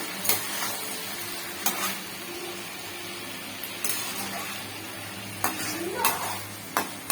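Ridge gourd and potato curry with poppy seed paste sizzles steadily in a pan, broken by a few sharp scraping strokes of stirring, with no talk.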